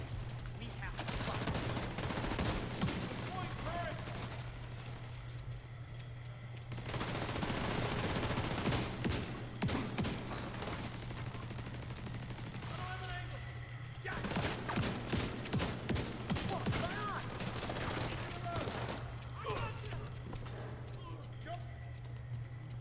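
Sustained gunfire from enemies positioned up top in The Division 2, a video game: dense, crackling volleys and rapid automatic bursts in waves, with a steady low hum beneath and someone talking at times.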